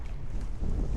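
Strong wind buffets the microphone on a fishing shore, a loud, rough low rumble that gusts and swells toward the end, with no voices heard.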